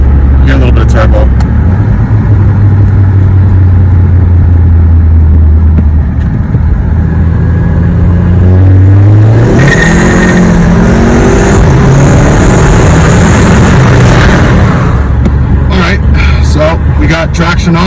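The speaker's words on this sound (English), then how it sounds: "I'll give it some second gear and third gear action. Hear a little bit of turbo." A VW Golf MK7 fitted with a dual air inlet pulls hard through second and third gear, its loud engine drone climbing in pitch, dropping at a shift, then rising again with turbo whoosh, close and steady throughout.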